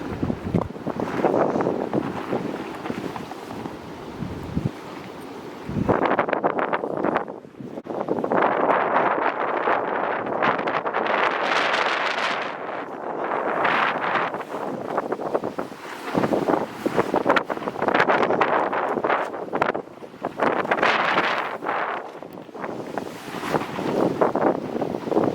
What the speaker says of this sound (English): the wind has been so bad it has ripped most of the eyelets out of this thing